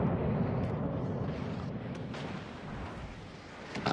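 Warship guns fire in World of Warships: Legends, a deep rumbling boom that fills the start and slowly fades, with a few sharp distant cracks and a fresh blast at the very end.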